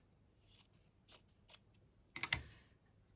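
Scissors snipping through a scrap of coffee-coloured fabric, a few sparse, quiet, close cuts spaced apart, ending in a quick cluster of louder snips, with no voices.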